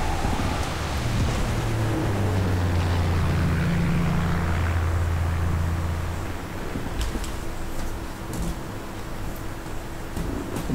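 A propeller airplane drones overhead in the battle-royale game PUBG Mobile. The low, steady engine hum is loud for about six seconds and then fades, leaving a softer rushing background with a few faint clicks.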